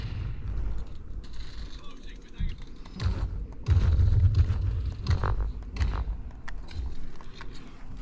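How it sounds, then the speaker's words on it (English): Gunfire from a shooting match on the Shipment map of a PS5 game, bursts of shots and thuds over a busy mechanical clatter, with a voice speaking briefly among them. "yeah, that was me just shooting"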